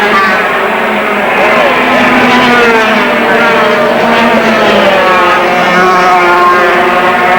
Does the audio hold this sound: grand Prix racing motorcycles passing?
yes